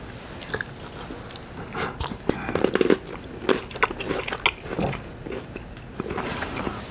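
Someone bites into a chocolate-covered tomato close up in a quiet kitchen, giving soft crunching and wet chewing that continues in irregular bursts, with no talk.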